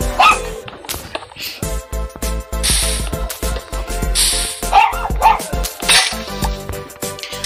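A dog barks repeatedly in close, loud bursts, with some yips and whimpering between the barks, no talk over it.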